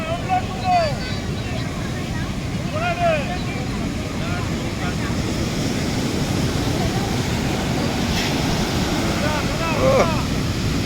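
Sea waves breaking on the shore at Puri as a fishing boat comes in from the open sea, a continuous loud wash with wind buffeting the microphone and faint voices in the background.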